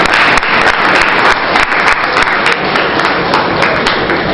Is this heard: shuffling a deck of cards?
no